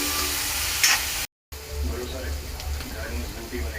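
Homemade pasta sizzles and fries in a pan while being stirred, a steady close sizzle with scraping strokes, cut by a short gap; a voice talks over it.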